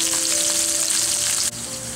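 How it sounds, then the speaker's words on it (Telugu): Long-sliced onion frying in oil sizzles in a dense, close, steady hiss with fine crackles, dipping briefly near the end, with no talk. "పచ్చి వాసన వెళ్ళేంత వరకు చక్కగా ఫ్రై చేసుకోవాలి"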